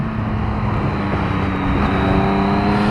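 A 2016 Triumph Speed Triple R motorcycle engine droning steadily during a ride, close and loud with a firm low hum, the pitch climbing slightly under wind rush.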